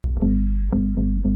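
Electric bass riff of a song climbing from the third to the fourth step of its build-up: a few deep, sustained notes in a steady rhythm, loud and alone.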